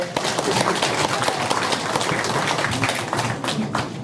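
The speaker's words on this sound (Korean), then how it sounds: "다시 한번 홍은이동 라인댄스 새싹팀의 큰 박수 부탁드리겠습니다" Audience applause fills a community residents' assembly hall in Hongeun 2-dong after a line dance team's performance. Steady, dense clapping from many hands holds at an even level throughout.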